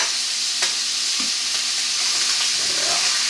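Sirloin steak frying in butter in a pan over low heat, a continuous close hiss and sizzle with a few faint clicks, no one speaking.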